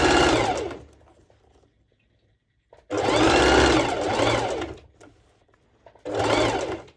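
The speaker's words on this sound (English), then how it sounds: "I will first do a front and back stitch, and afterwards I'm going to pull the elastic practically as much as I can." A sewing machine stitches elastic onto shorts with ruched sides, running in three loud bursts separated by pauses, the longest in the middle, with no talk.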